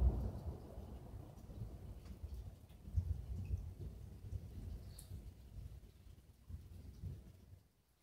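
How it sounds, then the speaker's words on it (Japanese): Faint low rumble of distant thunder heard through an open window, rolling under a soft steady patter of rain, with no voices. "雷。"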